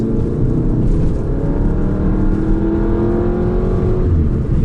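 A car engine drones loudly from inside the cabin, its pitch climbing steadily as it accelerates, with rising tonal whine over a rumbling base.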